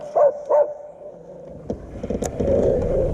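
A puppy gives two quick, close yips beside a fishing boat on a lake during a bass tournament, followed by a low, steady boat-engine rumble and a few small knocks.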